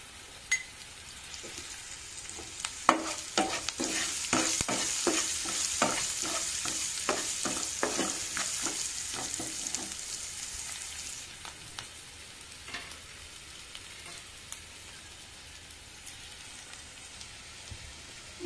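Onions frying in a pan on medium flame for a besan curry: a steady close sizzle with a quick run of rhythmic spatula scrapes early on, then quieter, even hissing.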